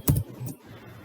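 Brief keystrokes on a computer keyboard: a quick pair of close clicks followed by a softer tap, near and isolated with no talking.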